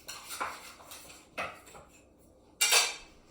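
A spatula scraping and knocking against a pan while lifting out chocolate rice crispy treats, with three separate short metallic clinks and scrapes spaced apart over a quiet background.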